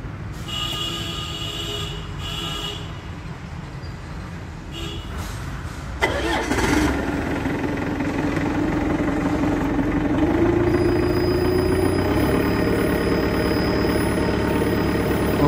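A forklift engine cranks and catches after quiet background noise, then settles into a steady rumbling idle whose pitch rises and levels off, with faint voices nearby.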